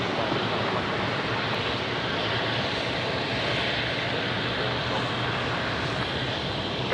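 Qantas airliner jet at Melbourne airport roaring steadily in the distance, a continuous broad engine rumble with no breaks.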